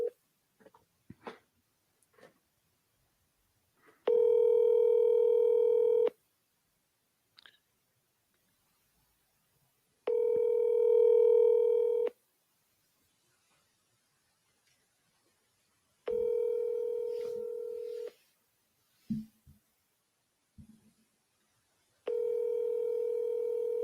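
Repeated outgoing phone call ringback tone on a redial, four steady multi-tone bursts about two seconds long spaced several seconds apart, with faint clicks and handling noises between them and no talk.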